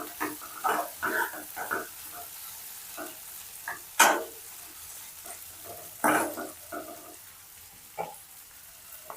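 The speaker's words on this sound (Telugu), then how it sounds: "క్యాప్ క్లోజ్ చేసి ఒక 5 minutes అలా ఫ్రై అవుతుంది" Okra (bendakaya) fries in a lidded pan, soft sizzling punctuated by sharp spitting pops and crackles at irregular intervals, close and moderately loud with no talking.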